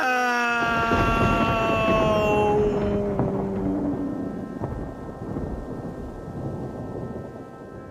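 A steady hiss of rain with a low rumble of thunder in Minecraft, while a descending musical tone fades out at the start.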